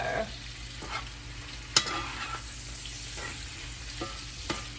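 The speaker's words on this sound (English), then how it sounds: "we're just going to let that fry up a little bit and saute" Food sautéing in a pan, a steady crackling sizzle with occasional sharper pops and scrapes from stirring, close up and without talk.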